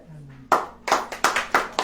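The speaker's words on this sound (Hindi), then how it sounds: "ताली बजाएं।" Clapping from a congregation at a Christian preaching service, heard as a short rhythmic series of about five sharp, loud, evenly spaced group claps. A faint tone and a brief voice come just before the claps.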